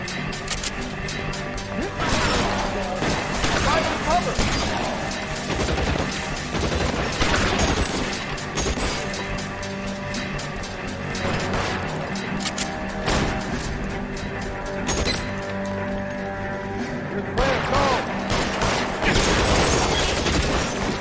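Gunfire in the video game L.A. Noire, repeated sharp shots and crashing impacts over a dense, loud game soundtrack, with bursts coming in clusters throughout.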